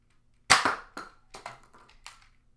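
A Nerf toy gun fires several sharp close snaps in quick succession, the first loudest and the rest quieter, against a silent background.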